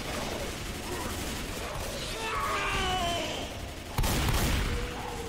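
Gunfire in the zombie shooter Left 4 Dead 2 rattles in a continuous burst beneath excited shouting voices, ending in a sharp loud crash near the end.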